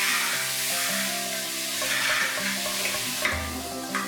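Four finely chopped onions sauteing in oil in a pan, a close, steady sizzle with soft stirring scrapes and a brief clack near the end.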